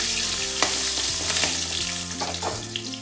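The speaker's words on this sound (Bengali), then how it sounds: "এবারে একটু গরম তেল আর ঘিতে দিয়ে দিচ্ছি, তারপর তেজপাতা" Bay leaf dropped into hot oil and ghee while cooking a Bengali mutton curry with yogurt, hissing in a steady, close sizzle with a few clinks and stirring scrapes, no voices.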